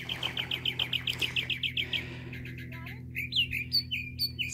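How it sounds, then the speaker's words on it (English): A mockingbird sings in the desert near Quartzsite at La Posa LTVA: a rapid series of repeated chirps, then varied whistled phrases, close and clear over a low steady hum. "we got this bird that just will not shut up"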